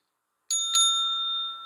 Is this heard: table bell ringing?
yes